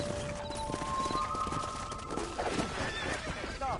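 A horse whinnies and neighs while hooves clip-clop beneath, with game-like ambience and faint voices in the background, from the video game Red Dead Redemption.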